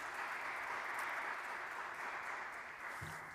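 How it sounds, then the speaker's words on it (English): A business forum audience claps steadily but faintly, as if heard from a distance, with a brief low tone near the end. "A round of applause for them."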